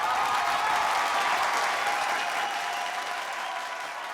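Audience applause on a TV show stage welcoming Murali and Suchitra, a full crowd clapping steadily and loudly, then easing slightly toward the end.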